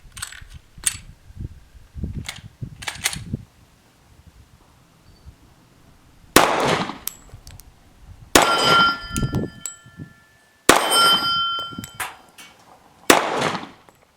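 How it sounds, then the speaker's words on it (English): Glock 36 .45 caliber pistol fired at an outdoor range, a handful of sharp, loud reports spaced a few seconds apart, with quieter metallic clatter and handling noise between shots. "45 caliber pistol, manufactured of course by Glock, and I've enjoyed shooting it here."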